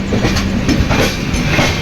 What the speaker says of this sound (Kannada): ಇದಾದ ಇನ್ನೊಂದು ಜನರಲ್ ಟ್ರೈನ್ ಮೂವಿಂಗ್ ಐತೈತೆ.